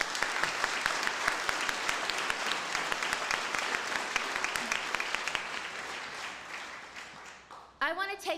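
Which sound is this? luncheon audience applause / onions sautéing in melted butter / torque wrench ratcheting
luncheon audience applause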